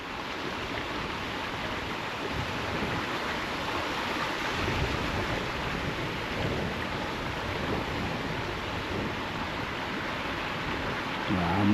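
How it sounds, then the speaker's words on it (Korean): Water from a mountain stream beside a thatched-roof house rushes in a steady, dense hiss that runs continuously and fairly loud, with no clear pauses. "야, 물소리는 계속."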